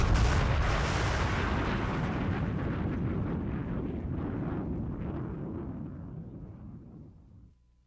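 A weakened or over-pressured bulk truck pressure tank bursts in a loud, sustained blast, a long roaring rumble that slowly fades over several seconds and then cuts away.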